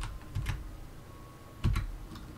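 Keys tapped on a computer keyboard while entering an Excel 365 formula, a few soft clustered clicks near 0.4 s and 1.6 s, close and fairly quiet, alone with no talk.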